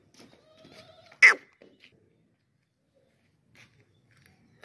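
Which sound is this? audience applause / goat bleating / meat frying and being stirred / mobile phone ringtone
goat bleating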